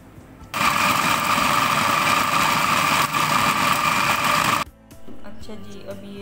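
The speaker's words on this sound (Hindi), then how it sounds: "इंजीर भी हमारी अच्छी तरीके से पिस गई है।" An electric grinder runs loud and steady on dried figs for about four seconds with one short dip, then cuts off and leaves quieter room noise.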